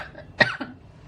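A single short cough, fairly close, followed by a brief softer catch of breath against a quiet background.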